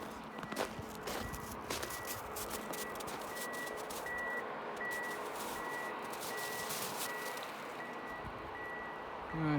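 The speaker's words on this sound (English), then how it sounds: "That noise, that hydraulic drone, is all I've been hearing." Steady hydraulic drone of logging machinery picking up timber on a forest trail, heard from a distance and fairly faint, with repeated high beeps and other machine clatter above the constant hum.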